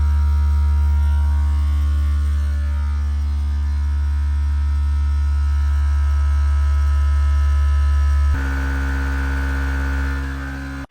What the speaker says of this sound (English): Wait for the pump to kick off.